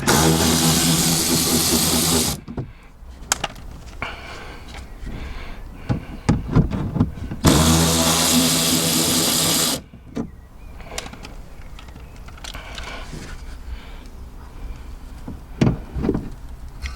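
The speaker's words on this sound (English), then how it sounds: "We'll use the old trusty torque wrench to do it." A powered wrench buzzes loudly in two bursts of about two seconds each while undoing bolts on a Volkswagen GTE car, with quieter clicks and knocks of tools and parts between and after the bursts.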